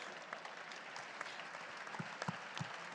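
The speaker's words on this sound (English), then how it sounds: "give them all a huge round of applause." A conference audience gives a sustained round of applause for panel speakers after a discussion, a dense even patter of many hands with a few louder claps near the end, somewhat distant and without voices.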